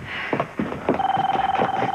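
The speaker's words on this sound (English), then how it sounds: "Oh, I'm gonna get the phone." An indoor telephone rings with a rapid, steady electronic trill that starts partway through, layered under faint talk and background movement.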